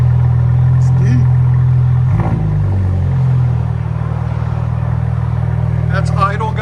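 A 2021 BMW M430i with a 2.0L turbo engine and straight pipes idles close by, a deep, steady low drone with a brief blip, while someone talks over it.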